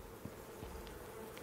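Bees buzzing in the survival game Icarus, a steady low insect drone with a few louder passes close by, no talk over it.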